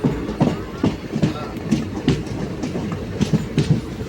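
Aboard the 17644 Circar Express from Kakinada Town to Chengalpattu, wheels beat out a quick, regular clickety-clack over rail joints above a continuous rolling rumble, loud and close.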